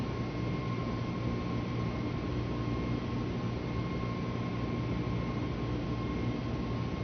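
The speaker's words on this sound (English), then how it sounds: "We have taken off from Paro International Airport in Microsoft Flight Simulator." An airliner climbing out after takeoff from Paro International Airport in Microsoft Flight Simulator 2020: a steady, even roar of engine and wind noise with a faint constant tone, unbroken and without voices.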